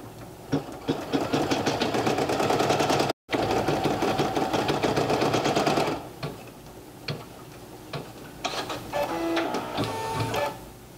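A single-needle embroidery machine stitches a two-fabric, four-color applique design with a loud, rapid, steady mechanical chatter that stops briefly, runs again, then gives way to quieter intermittent clicks and handling noises.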